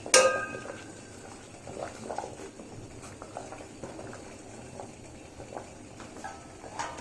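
Capsicum simmering in a covered pot on a gas stove gives a quiet, steady bubbling under low kitchen background, with a few faint clinks scattered through.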